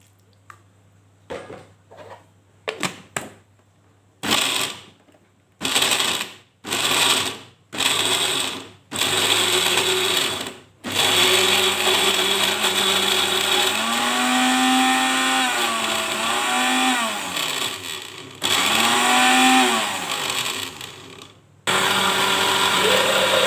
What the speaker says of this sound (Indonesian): Kita haluskan ya bumbunya.